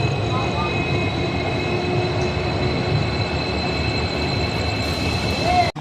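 Train standing at Manamadurai railway station on the Rameswaram–Velankanni route, a steady broad rumble of idling rolling stock with faint tonal hums, constant and fairly near, ending abruptly.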